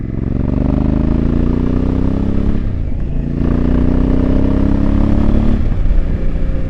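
Honda Africa Twin motorcycle fitted with a Fuel aftermarket exhaust, engine rumbling loudly and steadily up close with rising revs, a brief dip near the middle before pulling strongly again.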